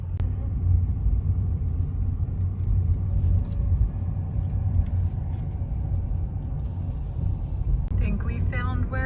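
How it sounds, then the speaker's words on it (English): Cars and tour buses roll past near a riverside château village, a steady low traffic rumble with engine drone, and faint voices speak briefly toward the end. "judging by all the cars and tour buses"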